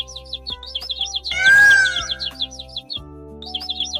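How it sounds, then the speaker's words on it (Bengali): Birds call in a calm countryside at the edge of a forest, with repeated quick high chirps in short bursts and a brief swelling tone partway through. "চারপাশে হালকা বাতাস, পাখির ডাক, সব মিলিয়ে পরিবেশটা ছিল শান্ত।"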